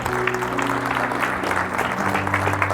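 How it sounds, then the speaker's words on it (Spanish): A church congregation at an evangelical preaching service breaks into applause to the Lord, many hands clapping steadily and loudly, with a sustained organ or keyboard tone held underneath. "Un aplauso al Señor."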